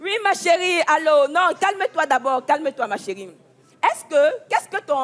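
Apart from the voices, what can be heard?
None of the usual background noises is heard.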